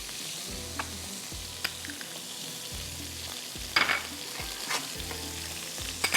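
Butter frying in a pan with masala gives a steady, close sizzle throughout, with a few brief stirring clatters and scrapes scattered over it.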